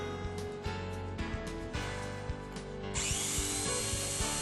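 Power drill bores into a wooden door through a two-sided drilling fixture, a close, loud whirring grind with intermittent bumps and knocks, the pitch rising toward the end as the bit cuts through; no voices.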